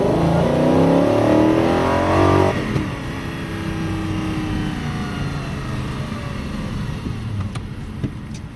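A V8-engined exotic car pulls away hard, its loud close engine note climbing for a couple of seconds before the revs drop and a lower, steadier drone carries on.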